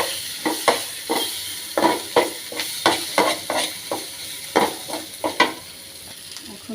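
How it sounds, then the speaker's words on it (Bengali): Turmeric, red chili powder and salt are stirred in a sizzling pan, and a spoon scrapes in a steady rhythm of about a dozen quick strokes. The sizzle is close and carries on underneath without any voices. "এখন আমি নেড়ে চেড়ে নিচ্ছি"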